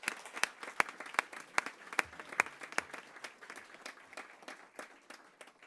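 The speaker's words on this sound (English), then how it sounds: "if we could give Mr. Colton a round of applause" Scattered applause from a modest audience at a school board meeting, individual claps distinct and fairly close, thinning out over several seconds.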